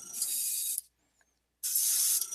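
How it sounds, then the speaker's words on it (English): Gray primer hissing from an airbrush powered by CO2 whippets, two steady loud bursts of spray separated by a short silent pause. "So I'm going to come up and spray it at a top-down angle, as it is."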